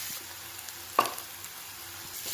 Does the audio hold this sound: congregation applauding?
no